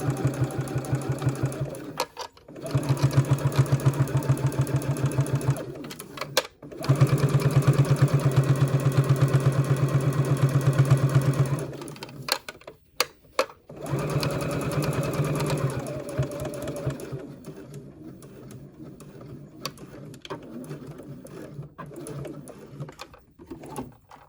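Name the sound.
sewing machine stitching fabric for a wrist strap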